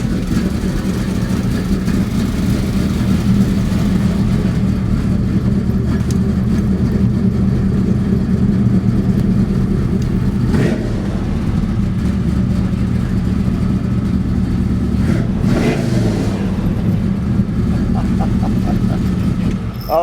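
A car with a five-speed manual gearbox, engine running steadily loud and close with a continuous low rumble, rising briefly in a couple of revving swells before settling back.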